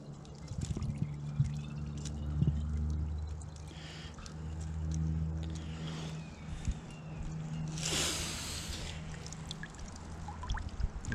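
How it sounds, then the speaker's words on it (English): Filtered water from a trail filter pours into a soft Platypus water bottle outdoors on a hiking trail, a steady close trickle with a louder gush near the end and low hum beneath. "start filling that platypus up with filtered water."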